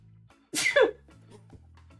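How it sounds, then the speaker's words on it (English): A single sharp sneeze bursts out close to the microphone over a quiet steady background tone, followed by faint trailing breath before the hum continues alone. "I have to sneeze."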